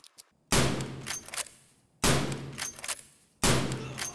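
Three loud, sharp gunshots ring out at roughly regular intervals with decaying tails between them, fired at slick body armor in Escape from Tarkov, preceded by two faint soft taps.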